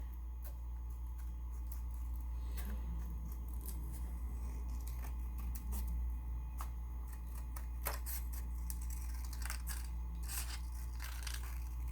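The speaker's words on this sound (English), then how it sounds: "So just trim around it very quickly." Scissors trim around paper Halloween decor, giving a run of quick, close, crisp snips at irregular intervals over a steady low hum, with no talking.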